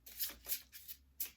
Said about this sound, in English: we gave the cards a wee shuffle